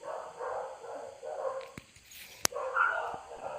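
Dogs bark in bursts at a moderate distance, several repeated yaps and yips punctuated by a sharp click, with faint background noise between.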